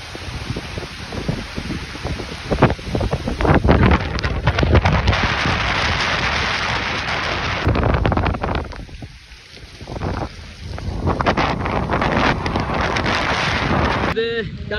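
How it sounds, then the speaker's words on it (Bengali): A heavy rainstorm with strong wind at a wetland in Trishal, loud roaring gusts buffeting the microphone and dense rain noise throughout, briefly easing midway before surging again. "একটা ভয়ানক বৃষ্টির মধ্যে পড়ছি। দেখেন কি পরিমাণ ঝড় আর কি পরিমাণ বৃষ্টি।"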